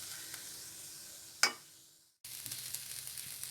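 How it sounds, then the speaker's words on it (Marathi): Tomato with ginger garlic paste frying in a pan over a medium gas flame, giving a soft steady sizzle with one sharp hiss as it is stirred, a brief silence, then the low sizzling resumes. "आता मी टोमॅटो आणि आलं लसूण पेस्ट पण छान परतून घेणार आहे।"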